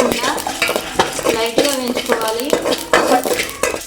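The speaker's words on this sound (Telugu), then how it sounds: "మసాలా అయితే వేయించుతున్నాను చూడండి" Whole masala spices—cloves, peppercorns, cardamom, shahjeera and coriander seeds—dry-roasting in a pan for egg curry, with rapid rattling, scraping and stirring clatter up close, loud and busy throughout.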